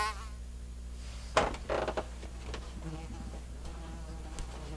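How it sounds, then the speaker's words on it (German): A wasp buzzes inside an office, its buzz rising loudly in a close pass and then fading into intermittent nearer and farther hums over a steady low room hum. "Wespenattacke in meinem Büro, ja, während ich drehe."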